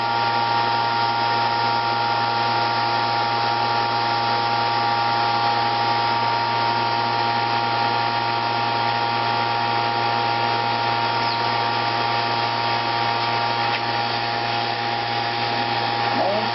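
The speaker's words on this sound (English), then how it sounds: "I'm starting to vacuum." A vacuum pump runs for mold degassing in a sculpting workshop, giving a steady, loud, unbroken electric hum with a constant tone for the whole stretch.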